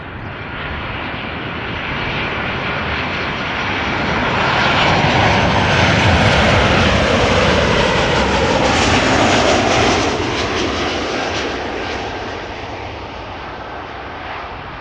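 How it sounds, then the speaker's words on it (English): A Ryanair Boeing 737-800 inbound from Dublin lands at Amsterdam Schiphol. Its broad engine roar swells to a peak near the middle of the pass and slowly eases off, with no voices. "first up, a 737-800 from Ryanair inbound from Dublin"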